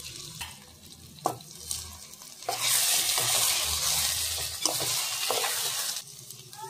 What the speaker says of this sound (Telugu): ఈ పేస్ట్ అనేది ఆయిల్లో మంచిగా వేగిన తర్వాత మనం ముందుగా అన్ని మారినేట్ చేసి పెట్టుకున్న ఈ ప్రాన్స్ని